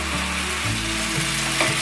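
Tomatoes and enoki mushrooms stir-fry in a pan with seasoning, giving a steady, close sizzle with faint scraping from the stirring and no voices.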